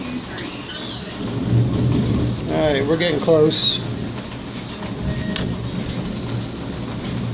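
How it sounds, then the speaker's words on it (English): Steady rain falls with a low rumble of thunder behind it, constant and moderately loud, while someone talks briefly over the storm. "As you can hear, we got a nice Thunder Boomer going in the background."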